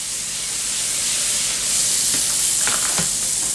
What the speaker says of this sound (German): Und jetzt backe ich die Pfannkuchen.